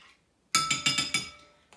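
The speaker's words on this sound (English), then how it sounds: "you want to make sure it's stirred really, really well" A spoon clinks against a bowl while stirring a bird seed ornament mixture, five quick bright knocks in a rapid, even rhythm, close and fairly clear, after a short silence.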